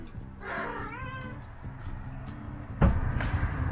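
A cat lets out a drawn-out, wavering meow, then a brief second cry a moment later, heard up close over a low background hum.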